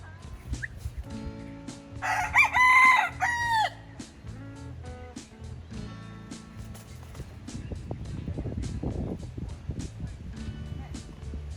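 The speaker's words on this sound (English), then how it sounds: "Look at this macho rooster." An outdoor rooster in Hawaii lets out one loud, drawn-out crow partway through, standing out over steady wind and scattered background noise.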